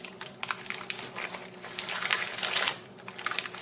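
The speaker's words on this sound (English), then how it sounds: "once you have rolled it into the parchment paper" Parchment paper crinkles and rustles close up as cookie dough for pine cookies is rolled into a cylinder, a steady run of crisp crackles that swell to a louder flurry midway, with no talking.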